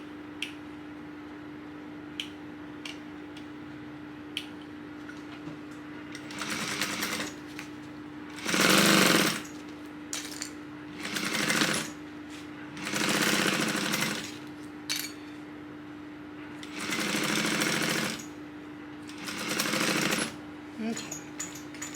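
A sewing machine stitches a tote bag at a 3/8 inch seam in several short bursts of rapid rattling, separated by quiet pauses over a steady background hum, close and fairly loud.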